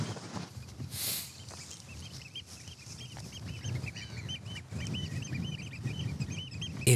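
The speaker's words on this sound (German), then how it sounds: "die stolze Möwe." Gull on the island of Amrum giving a run of repeated squawking calls in short bursts, moderately loud over a rough outdoor background, with a brief gusty noise near the start.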